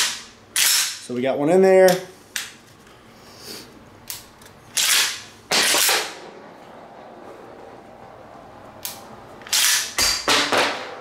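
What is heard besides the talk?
SPAS-12 shotgun firing until empty, bolt locking back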